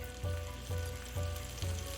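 Ground chicken mince frying in a pan for a curry, sizzling steadily with four regular stirring pulses, close and fairly quiet, with no voices.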